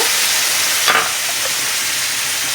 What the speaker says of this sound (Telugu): టమోటాలు యాడ్ చేసుకున్న తర్వాత బాగా కలుపుకోవాలి